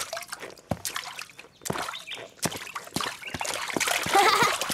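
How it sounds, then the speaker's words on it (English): Boots splashing and sloshing through water puddles in a children's cartoon, with several separate splashes and drips at an uneven walking rhythm, loud and close. "You can walk in all the puddles."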